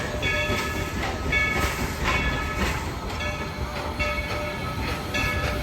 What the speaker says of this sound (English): Gonna get a ride on this train.